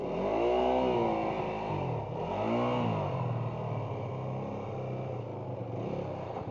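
A hill climb race car's engine catches after a push start with the clutch let out, then revs loud and close with rising and falling pitch sweeps before settling into a steady, throbbing roar.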